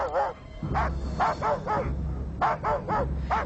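Several sled dogs at a polar weather station bark repeatedly in quick, uneven bursts, fairly close, over a low rumbling background with some whining mixed in.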